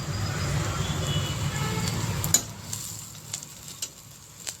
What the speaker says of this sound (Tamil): வெங்காயம் லைட்டாக கலர் சேஞ்ச் ஆகிற வரைக்கும் வதக்கலாம்.